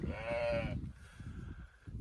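A single Saanen goat bleat, close and clear, lasting under a second, followed by a fainter second bleat over low rumbling background noise.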